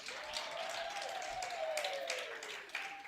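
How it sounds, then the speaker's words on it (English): Audience applause for the CEO at a women's sport conference, a steady, moderately distant wash of clapping from a crowd, with a faint tonal sound running beneath it. "Let's give our CEO a round of applause."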